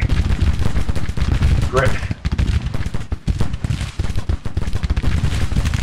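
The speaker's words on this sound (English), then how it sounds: "Virginia Brigade, please start firing." Crackling musket volleys from Grand Tactician: Civil War, a Virginia brigade firing in a Civil War battle, with dense overlapping shots rolling continuously and loudly, briefly dipping before resuming; someone speaks over the gunfire.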